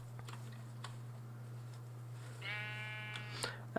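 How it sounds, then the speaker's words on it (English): A little gray sheep in a modded Minecraft server lets out a single short, wavering bleat, faint and alone over a steady low electrical hum and scattered soft ticks. "Oh, and they have a little gray sheep."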